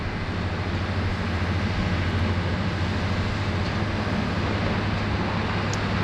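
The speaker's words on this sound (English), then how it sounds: "Fiji Airways just vacating by the rapid exit there after arriving from Nandi" Steady broadband jet rumble with a low hum, fairly distant and even, as a Fiji Airways airliner arriving from Nadi rolls off the runway onto a rapid exit taxiway at Sydney Airport.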